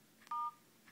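Touch-tone keypad beep from an HTC Wildfire S phone's dialer as a code is entered: a single short, clean tone, quiet and isolated over faint background hiss.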